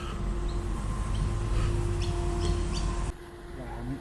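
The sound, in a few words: many birds chirping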